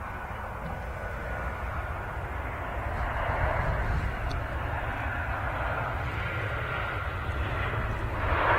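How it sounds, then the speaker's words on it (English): An airplane lands at Manchester Airport, heard as a sustained distant engine roar and rumble that swells gradually and stays broad and steady throughout. "Not the smoothest touchdown I've ever seen"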